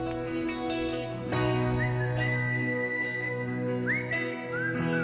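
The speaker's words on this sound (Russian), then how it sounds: "Художественный свист." An artistic whistling performer whistles a melody with rising glides and held notes over a musical backing at a stage show, clear and prominent throughout.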